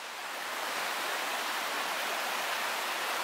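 Iron Creek Falls and its creek pour in a steady, broad roar of rushing water, dense and continuous from start to finish, close and fairly loud with no voices.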